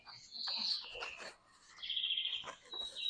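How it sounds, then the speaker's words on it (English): Birds chirp and sing in a quiet setting before a meditation, several bright tweets and trills overlapping in a steady, moderately loud chorus with no talking. "Everybody hear a little sound of birds?"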